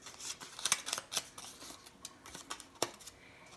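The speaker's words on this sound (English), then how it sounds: "fold the piece of paper in half, the feather shape, and just create slits with a pair of scissors" A pair of scissors snips slits into a folded paper feather shape, producing a quick series of crisp, close cuts in uneven bursts with no talking.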